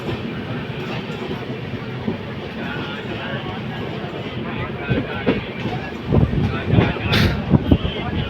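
The North East Express rumbles along the rails with a steady low roar and occasional sharper clatter as the cars pass over joints, loud and close from inside the train, with voices talking over it.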